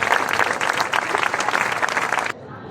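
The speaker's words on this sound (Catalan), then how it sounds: "donem la benvinguda amb un fort aplaudiment a la Maria Nicolau" Loud audience applause fills the room at a Tast Tiana event welcoming Maria Nicolau, dense steady clapping from a crowd that cuts off abruptly near the end.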